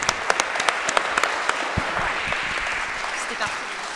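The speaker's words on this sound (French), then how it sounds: "On l'applaudit s'il vous plaît" Audience applause rises after a speaker thanks a participant at a workplace testimony gathering, with a dense wash of many hands clapping steadily for about four seconds, some sharp nearby claps standing out, and faint voices underneath.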